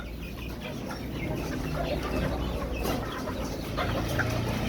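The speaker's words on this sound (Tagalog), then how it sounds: "Bumaba yung hen." A hen clucking at a Filipino backyard poultry coop, soft irregular clucks heard fairly close among a busy rustling, noisy outdoor background.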